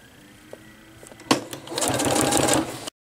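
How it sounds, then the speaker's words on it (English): A sewing machine top stitches an opening closed on a fabric wet/dry bag, a short whirring burst of rapid stitching after a few faint clicks, close and steady before stopping abruptly. "you are just going to top stitch this opening closed"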